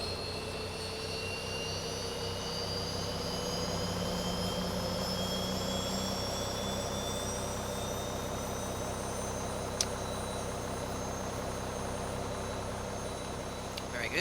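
A Boeing 737 jet engine in a flight simulator game spools up with rising, whining tones over a steady low rumble. A faint click sounds partway through.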